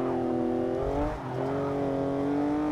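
A 2015 Porsche Cayman GTS engine in Forza 6 revs hard under acceleration, its steady whining tone rising in pitch, dipping briefly around a shift, then climbing again, loud and close with no talk.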